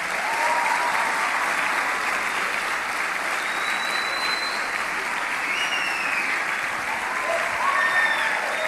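Sustained applause from a church conference congregation, a dense, steady wash of many hands clapping at even loudness throughout, with a few faint voices rising above it.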